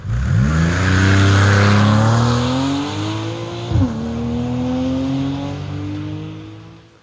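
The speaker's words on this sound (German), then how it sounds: "dann klingt das Ganze so wie es Porsche macht" A Porsche flat boxer engine with opposed valves revs hard and loud, its pitch climbing steadily, dipping briefly with a sharp shift-like blip near the middle, then rising again as it keeps pulling alone without any talk.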